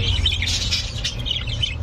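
A Hagoromo canary hen calling in an aviary, with a string of high, squawking chirps repeating closely over a low background hum.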